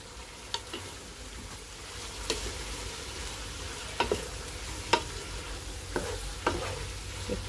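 Rice and fried eggs stir-fried together in a pan for vegetable fried rice: a steady low sizzle broken by repeated scraping strokes of a spatula, close and moderately quiet, with no voices.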